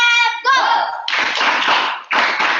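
An audience gives a welcome round of applause at a live doodle session. A voice comes first, then two bursts of hearty clapping follow close together.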